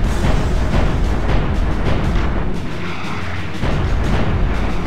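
Heavy gun turrets firing in the naval defence game Pacific Gunner, a dense, continuous barrage of booming shots that rumbles without pause throughout, loud and close.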